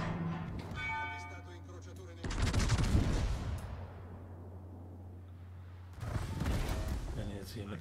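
Naval gunfire booms in World of Warships as HE shells fly between battleships, with two loud, dense blasts several seconds apart, each rolling off slowly over a steady engine hum, with a voice talking early on.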